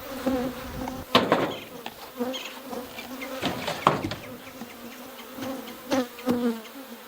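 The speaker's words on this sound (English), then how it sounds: "Look at all these bees around." Bees swarm around a beehive with a steady buzzing drone, individual insects passing close to the mic, joined by occasional sharp knocks and clicks of handling nearby.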